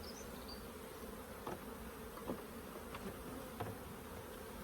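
Honey bees buzz steadily around an open beehive during a hive split, a dense, constant hum with occasional individual bees droning closer past the listener.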